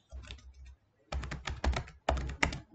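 Computer keyboard typing at a desk: two short bursts of close, crisp key clicks, separated by a brief pause, with a few louder keystrokes near the end.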